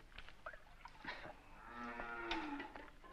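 A cow gives a drawn-out, low, faint moo, heard alone from a short distance.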